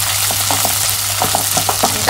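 Poha being dry-roasted and stirred in a pan, a close, continuous sizzle with quick scraping strokes of a spoon against the metal repeating throughout.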